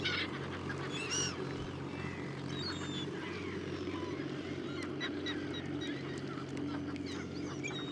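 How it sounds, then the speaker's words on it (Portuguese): Gulls and shorebirds call over freshly turned farmland beside a working tractor in the Baixo Vouga lagoon area, scattered honking and squawking cries over the tractor's steady low engine drone. "A atividade do trator atrai aves marinhas e limícolas, principalmente guinchos e gaivotas"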